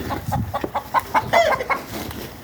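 Hens cluck in a quick series of short, rhythmic calls close by, rising into a brief squawk, in a fenced yard.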